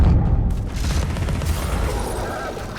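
Loud, dense barrage of booming cannon blasts in the Alice Madness Returns action game, heavy low rumble and crackle filling the whole moment without a break.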